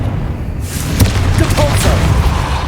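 A Confringo fire spell in Hogwarts Legacy goes off as a sharp boom followed by a crackling, sizzling blast that lingers for a couple of seconds, with a voice talking over it.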